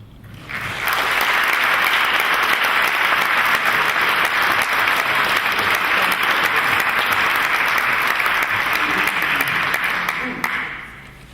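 A memorial audience breaks into sustained applause for the late Dave Samuels, a dense, even roar of many hands that holds steady for about ten seconds before tapering off.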